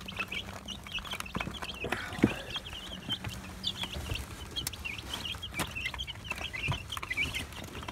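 Several chickens cluck and murmur softly nearby, their calls scattered over a faint background with occasional knocks and rustles.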